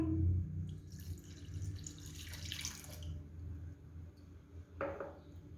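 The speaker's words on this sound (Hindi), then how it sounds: "अब 1 गिलास पानी का डालेंगे।" A glass of water pours steadily into a metal pan of soaked tamarind for a few seconds, a splashing rush that fades, then a brief second splash near the end.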